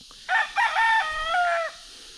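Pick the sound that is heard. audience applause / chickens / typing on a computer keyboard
chickens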